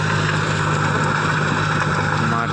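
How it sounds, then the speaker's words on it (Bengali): A John Deere 5105 5WD tractor runs at about 1600 rpm in low second gear while ploughing a field, its engine giving a loud, steady drone with a low hum and rushing noise throughout. "গাড়ি এখন মোটামুটি আপনার 1600 আরপিএম কি 1600 আরপিএমের মধ্যে চলছে"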